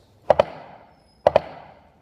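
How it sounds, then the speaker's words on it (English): Two open flams on a snare drum, each a pair of clearly separated sharp hits, played alone with a short ring after each. "So if I had very open flams, they might sound like this."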